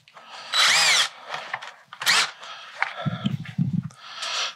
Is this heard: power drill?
yes